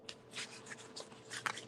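Tarot cards being given a quick shuffle, with several soft papery riffles and slides in short bursts, close and fairly quiet, alone without talk.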